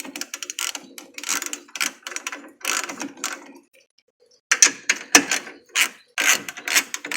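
A ratchet works bolts loose on a Chevrolet Trailblazer during radiator replacement, with loud, close bursts of rapid clicking, a short pause midway, then more quick ratcheting strokes.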